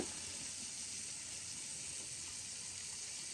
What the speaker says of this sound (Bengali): এই যে এদিকে ভাতও বলক চলে আসছে